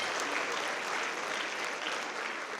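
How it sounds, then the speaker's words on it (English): Audience applause at a city's State of the City address, a dense wash of clapping from a large crowd, steady and moderately loud for nearly three seconds. "Let's round of applause for that."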